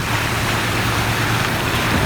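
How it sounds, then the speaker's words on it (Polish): Rainwater rushes through a drainage ditch after intense rainfall on Gozo, Malta, a loud, steady, close broadband roar without pause. "to jest tylko taki rów, gdzie właśnie w przypadku takich intensywnych opadów płynie woda"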